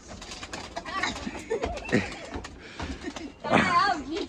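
Pigeons coo in a loft, soft repeated throaty calls near the microphone, while people talk and handle the birds throughout.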